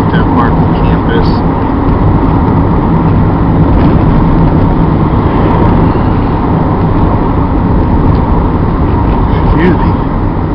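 Steady car road noise from inside a vehicle driving to a campus after a stop at a gas station, a continuous engine and tire rumble that holds at a constant level throughout.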